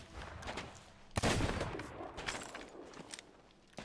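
Gunshots during a Sea of Thieves pirate video game fight, a loud close blast followed by scattered quieter shots and clattering action noise.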